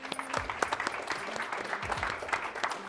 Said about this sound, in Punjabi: ਇੱਕ ਵਾਰ ਜ਼ੋਰਦਾਰ ਤਾੜੀਆਂ ਇਹਨਾਂ ਦੇ ਲਈ।